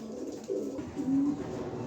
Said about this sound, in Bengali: এখানে এক পেয়ার কবুতর দিলাম